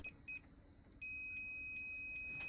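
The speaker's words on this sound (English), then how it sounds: "we have a setting on our multimeter, and if we have continuity," A multimeter on a boat beeps in a continuity test: two short high beeps, then a steady continuous tone after a brief pause, clear and close with no talking.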